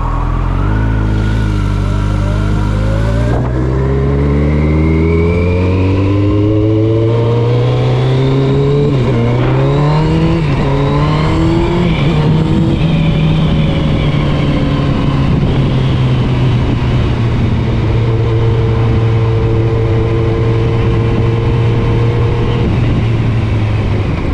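A 2009 Kawasaki ZX-1400 sport motorcycle rides past up close and loud, its inline-four engine revving and climbing through the gears with rising and falling pitch sweeps, steady road and wind noise underneath, no voices.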